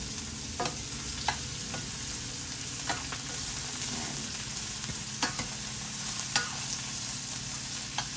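Large mushroom slices fry in sesame oil, a steady sizzle broken by occasional sharp taps and clicks of a utensil stirring in the pan.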